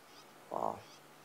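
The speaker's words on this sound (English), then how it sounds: "We can still hear the sounds of the alarm calling bird to the left and right of us." A single brief, harsh bird alarm call rings out at moderate distance in the African bush at sunset, a short burst over a quiet background during a Sabi Sand safari drive.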